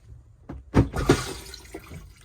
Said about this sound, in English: allow water into the bowl.